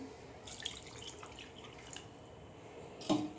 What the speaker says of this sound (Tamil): இப்போது குழம்புக்கு தேவையான தண்ணி ஊற்றிக்கலாம்.